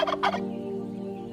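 A turkey gives a couple of quick, close clucking gobbles, then a sustained low tonal hum lingers underneath.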